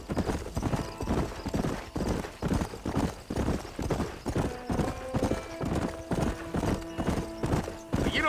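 Horse hooves galloping in the video game Red Dead Redemption, a fast, steady clip-clop rhythm close by, with tonal music or sounds rising underneath partway through.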